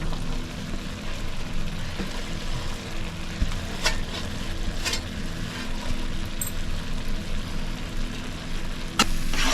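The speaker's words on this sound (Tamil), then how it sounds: "நல்லா ஒரு பத்து நிமிஷம் கிளறி கொடுங்க" Shark puttu mixture with onion, green chilli and ginger sizzles in a pan under steady stirring, with a constant close frying hiss and a few scraping clicks of the spoon.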